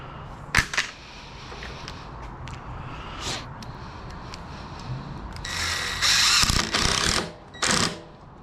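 Screw being driven into a glued hole in wood, a sharp click near the start followed by steady ratcheting and whirring bursts that grow louder toward the end, close by with no talk.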